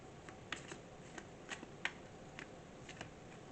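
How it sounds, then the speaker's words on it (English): Cards shuffled and drawn for a tarot-style inner child reading: a faint, close series of quick crisp riffles and snaps, with several sharper flicks spaced irregularly over a quiet background. "next I'm going to pull some cards"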